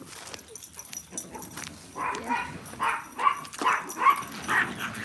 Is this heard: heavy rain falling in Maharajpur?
no